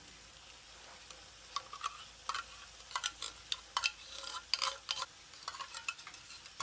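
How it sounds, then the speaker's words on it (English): A spoon stirs baked bean sauce into camp ketchup simmering on very low heat, making soft, irregular scrapes and clinks against the pot, quiet and with no talking. "Get all that beany goodness in there. Stir that in."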